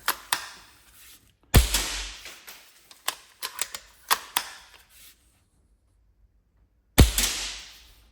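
TM VSR One upgraded airsoft sniper rifle firing at wooden targets: a few loud, sharp shots, each followed by clustered clacking target hits and rattles, with a silent gap before a final shot.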